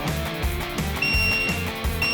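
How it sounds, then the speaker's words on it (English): A DOVOH laser level's tilt alert beeps over a busy background, a high steady tone appearing intermittently and repeating in short bursts. "it will start giving you an alert and beeping like that until you are back to level"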